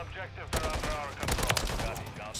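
Bursts of Holger 556 assault rifle fire in Call of Duty MW3, with loud, sharp shots in quick clusters and a voice talking over part of the gunfire.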